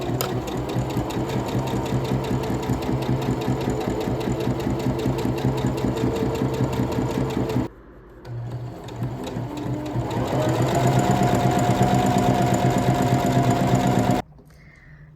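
Sewing machine stitching steadily while quilting a baby quilt, a fast continuous mechanical chatter that pauses briefly, restarts, then cuts off near the end.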